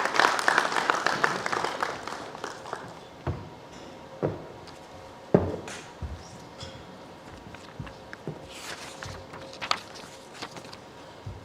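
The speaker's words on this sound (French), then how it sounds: "sous vos applaudissements, s'il vous plaît" Applause from a business forum audience in Cotonou greeting the president of Benin's national employers' council, fairly dense at first, then thinning to scattered claps and footsteps in a large hall.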